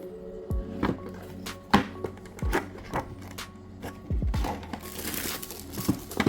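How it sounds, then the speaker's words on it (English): Packaging rustles and crinkles as an iClipper Pro brushless hair trimmer is unboxed, with close crackles and soft knocks that come in irregular bursts and no speech over them. "Today's episode, I'm gonna unbox this hair trimmer, a brushless one"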